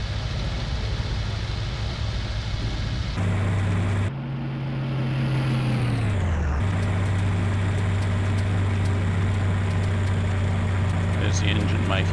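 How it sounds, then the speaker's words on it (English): A Junkers Stuka dive bomber's engine drones in the IL-2 Cliffs of Dover flight game, a steady loud hum that cuts out briefly and drops in pitch before resuming, with irregular pops over it. "The engine making some popping sounds"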